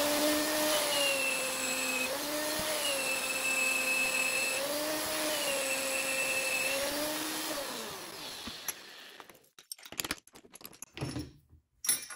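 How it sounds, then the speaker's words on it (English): A magnetic drill bores a pilot hole through steel plate for a welding table fixture, a steady loud motor whine with wavering pitch for about eight seconds, then spinning down into scattered clanks and handling noises. "And then I'll finish drilling out this pilot hole."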